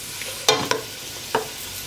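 Softened onions with bay leaf and thyme are stirred in a cooking pot over a gentle sizzle, with three distinct spoon scrapes against the pot, two close together and a third shortly after.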